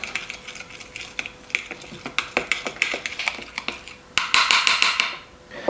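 Spoon clinking and scraping against a bowl while a smoked paprika and salt marinade paste is stirred for chicken quarters, a steady run of close light taps that grows louder and quicker near the end.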